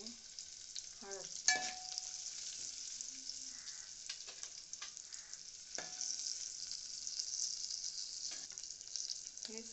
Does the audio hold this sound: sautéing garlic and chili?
yes